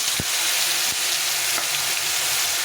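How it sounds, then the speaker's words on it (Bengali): Paneer cubes with salt and turmeric fry in a pan with a steady, loud sizzle throughout, broken by a few soft taps of a spatula. "দিয়ে আমি পনিরটাকে একটু ভেজে নেব পনিরগুলোকে হালকা করে একটু ভেজে নেব"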